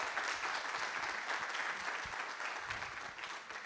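Sustained applause from an audience at the Tiqets Remarkable Venue Awards 2022 during a tourism innovation summit: dense, steady clapping that fills the room and tapers slightly toward the end.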